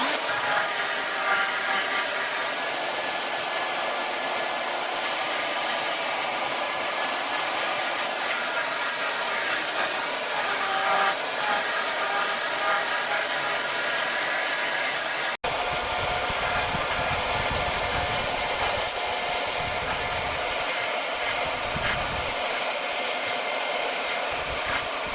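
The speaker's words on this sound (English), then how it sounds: "Been a long time since I used a belt sander" A belt sander runs continuously close by with a loud, steady hissing whir, its tone roughening and gaining low rumbling as it bears down on a surface in the latter part.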